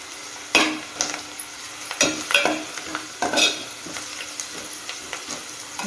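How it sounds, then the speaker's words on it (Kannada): Brinjal curry with salt and turmeric sizzles in a pan while a spoon stirs and scrapes it in a series of close, uneven strokes. "ಸ್ವಲ್ಪ ಉಪ್ಪನ್ನು ಸೇರಿಸ್ತಾ ಇದ್ದೇನೆ, ಸ್ವಲ್ಪ ಫ್ರೈ ಆಗಲಿ."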